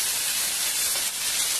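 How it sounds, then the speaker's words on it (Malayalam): Cooked buffalo meat tipped into a hot pan for a Kerala buffalo roast, giving a loud, steady hissing sizzle that fills the short moment with no talk. "ഇനി ഇതിലോട്ട് നമ്മള് ബഫല്ലോ വേവിച്ചു വെച്ചിരിക്കുന്ന ബഫല്ലോ ഇതിലോട്ട് ഇടാം"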